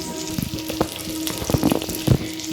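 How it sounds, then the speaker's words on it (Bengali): Pointed gourd (potol) fries in oil with a loud, steady sizzle close by, punctuated by irregular knocks and scrapes from a stirring spatula. "এই যে পটলগুলোকে ভেজে নিচ্ছি"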